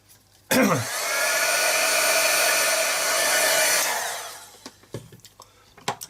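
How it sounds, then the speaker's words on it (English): A handheld blower drying paint on a small art tag runs as a loud, steady whoosh for about three seconds and then cuts off, followed by a few light knocks. "Again, just quickly blow that out, dry that with a blower."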